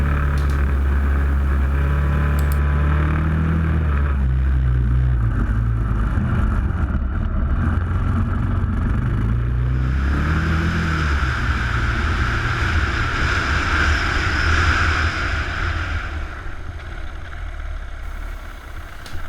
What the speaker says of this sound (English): The engine is really working smoothly, and I can run nice and fast over these gravel tracks in my neighborhood.